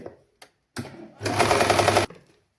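An electric sewing machine stitches a seam on a nightie, a short loud run of rapid needle clatter after a few small clicks and handling sounds, then stops abruptly.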